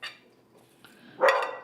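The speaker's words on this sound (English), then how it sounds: "My dog is barking." A dog indoors near a kitchen gives a short bark, then after a pause a louder, sharper bark, both heard alone without talking.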